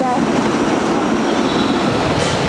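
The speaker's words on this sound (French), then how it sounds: "On sort du métro." A Paris metro train in motion gives a loud, close, continuous rumble with rattling and rolling wheel noise inside the carriage.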